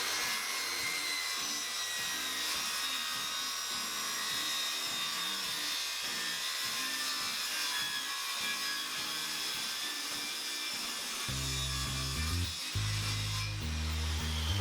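A saw cuts through the wooden top for a workbench in a steady, continuous rasping run, near and fairly quiet, with a few heavier knocks at the end.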